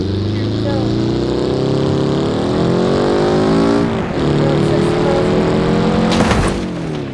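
Car in BeamNG.drive driving into a beam obstacle set halfway up its body, a steady engine drone with rising pitch, then a short sharp crash burst near the end, all loud and close.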